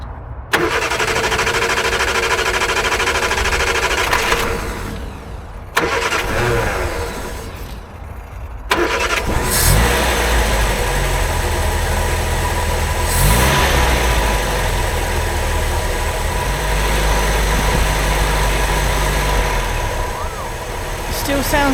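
Triumph Herald Estate engine after a carburettor swap cranks in short bursts, then catches and settles into a loud, close, lumpy idle with uneven rhythm, while a person talks over it.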